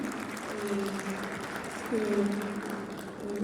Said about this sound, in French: Je pense qu'on ne peut qu'applaudir ce qu'on a entendu.